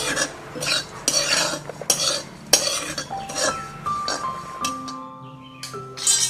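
Grated coconut being dry-roasted and stirred continuously in a pan, with repeated scraping and clinking of a metal spoon against the pan in an uneven rhythm, close and moderately loud.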